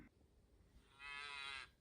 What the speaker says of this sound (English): Okay, so we have some cows here.